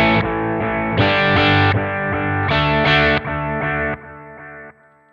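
Sustained distorted guitar chords through a lo-fi delay effect on a Sonicake Matribox 2, with a gritty edge and echoing repeats, loud and steady, fading down in steps toward the end.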